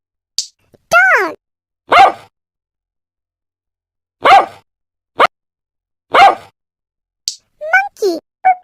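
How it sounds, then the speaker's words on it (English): A dog barks in several sharp, loud, close single barks spaced apart, with brief spoken voices at the start and end. "Dog."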